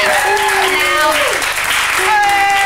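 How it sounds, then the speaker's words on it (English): A studio audience applauds on a breakfast television show as a guest is welcomed to the couch, loud clapping beneath a presenter's voice and cheering. "Give him a round of applause"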